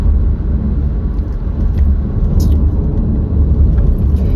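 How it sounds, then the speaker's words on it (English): A car rolls along a road with a steady, loud low rumble and road roar from inside the moving vehicle, with faint rattles over the continuous drone. "There's a car in front of us as well now,"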